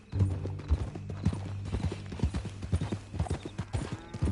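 Horse hooves clip-clop steadily in Red Dead Redemption 2, a Western open-world game, with a brisk, even walking rhythm that stays close and clear throughout, under light ambient background and no talk.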